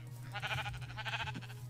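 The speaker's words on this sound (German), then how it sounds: "Oh, da haben wir auch gleich ein Schaf." Sheep in the video game Minecraft bleating twice in quick succession, a short wavering call repeated, fairly quiet over a low steady hum, with no talking.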